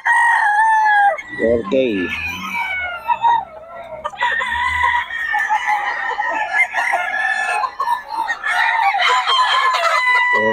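Several roosters crow at a farm in Bocaue, loud and close, with overlapping calls and a few clucks; someone speaks briefly among them.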